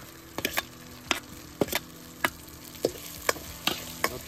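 Garlic paste sautés in a pan over a village wood-fired stove: a soft steady sizzle under sharp, regular spoon scrapes and taps against the pan, about two per second, close up.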